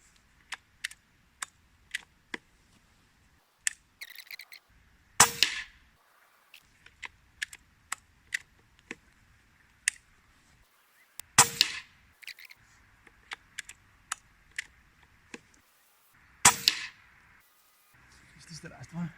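Benjamin Marauder PCP .22 air rifle firing several sharp, loud shots spread out at irregular intervals, separated by quieter clicks and handling taps as the rifle is cocked and reloaded.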